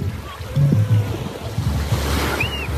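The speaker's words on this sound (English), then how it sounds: "Let me make a video of the water pushing you." Ocean waves wash over children at a beach in Lagos, a steady surging roar of surf with wind buffeting the microphone, close and continuous with no talking.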